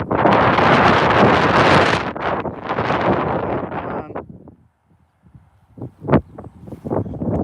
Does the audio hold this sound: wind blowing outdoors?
yes